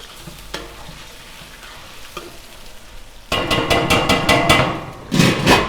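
Meat hits hot oil in a pan and bursts into a loud, steady sizzle as it is sautéed, with sharp metallic clanks of a utensil stirring.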